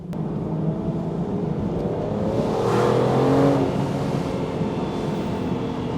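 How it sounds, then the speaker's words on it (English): An Aston Martin DBS V12 engine drones steadily and swells into a brief rev midway before settling back to a constant roar, with no talking. "I also want to hear that V12 engine uninterrupted."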